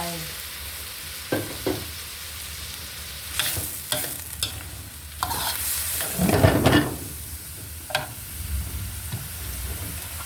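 Stir-frying in a hot pan over raised heat after a splash of water, with a continuous sizzle under repeated scraping and clattering stirring strokes, close and without talk.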